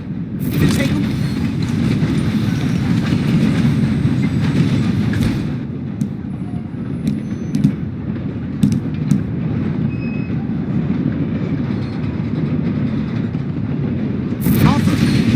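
A moving train in the video game Red Dead Redemption 2 rumbles loud and steady, a low rolling roar with faint metallic clicks and a brief sharp noise at the start and end, and no clear speech.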